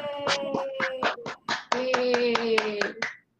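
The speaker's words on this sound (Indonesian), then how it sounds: "Tepuk tangan untuk Mbak Maria." A fourth-grade class claps in a patterned rhythm of sharp, separate hand claps, about a dozen in quick groups, while young voices chant along in a sustained tone before stopping abruptly.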